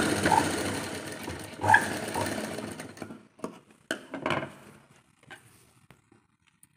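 Sewing machine stitching fabric, a steady close mechanical whir for a few seconds, then scattered soft clicks and taps as it stops.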